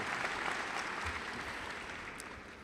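A commencement audience at McGeorge 2019 claps in a soft, steady wash of applause that tapers off slightly toward the end.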